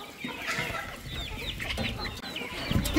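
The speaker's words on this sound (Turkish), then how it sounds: "Ha, horoz bile peşime takılmış" A village rooster clucks in a yard, with short repeated clucks and chirpy calls close by over faint background rustle, no talking.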